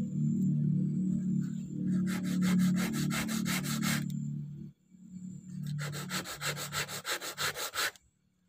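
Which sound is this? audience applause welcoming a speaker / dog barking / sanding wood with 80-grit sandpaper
sanding wood with 80-grit sandpaper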